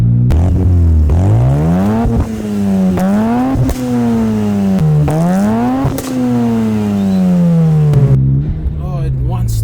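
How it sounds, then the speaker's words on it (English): Mazda RX-7 rotary engine with aftermarket exhaust revving repeatedly, a loud buzzy exhaust note climbing and falling through several blips, close by with no talk. "just listen to that exhaust note."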